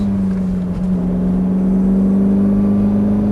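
Ferrari F430 F1 engine drones loud and steady from inside the car, its deep, even tone holding under acceleration with a slight rise in pitch.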